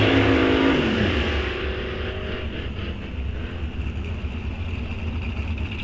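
A 1964 Chevy SS drag car launching down the strip at Rock Falls Raceway, a loud engine roar that rises sharply at the start, then settles into a sustained, receding drone with rumble from the track.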